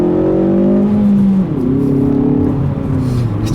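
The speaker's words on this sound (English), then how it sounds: "just so satisfying to rip through these gears" A 2019 Hyundai Veloster Turbo R-spec accelerates hard through its gears, the loud engine note climbing in pitch, dropping sharply at a shift, then rising again, with no voices.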